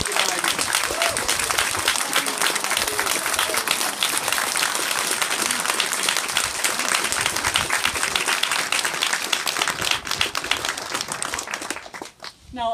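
Sustained applause from an audience honouring Martin and the garden makers, dense steady clapping filling the room for about eleven seconds before fading out near the end.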